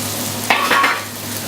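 Butter with chili, red onion and garlic sizzles in a pan, a short burst of frying and stirring, close and steady.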